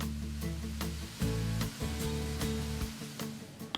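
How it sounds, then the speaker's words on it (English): Cumin, chili powder and oregano get stirred into a sizzling pan, with a steady crackling fry running throughout, occasional scraping touches, and a low tonal background hum. "All right, so I'll stir in the spices."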